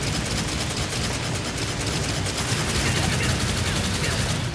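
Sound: enemy gunfire in Devil May Cry 4 video game

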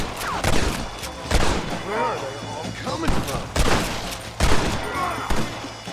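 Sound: gunfire in a video game

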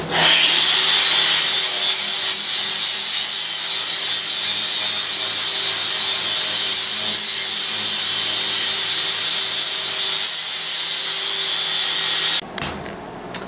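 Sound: sanding welded metal tube seams with sandpaper

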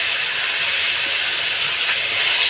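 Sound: ginger garlic paste sizzling in hot pan with chicken

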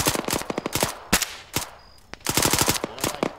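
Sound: suppressive machine gun fire in a military video game

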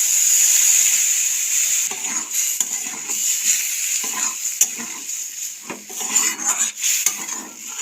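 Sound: stirring sautéed vegetables with boiled lentils in a pan

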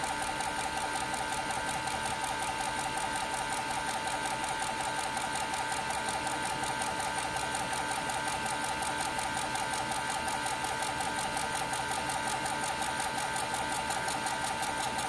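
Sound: DAJA D4 engraver with rotary axis engraving a cylinder

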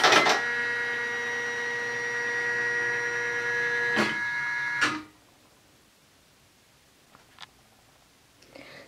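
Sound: Janome MB-4S embroidery machine cartridge moving at power-up

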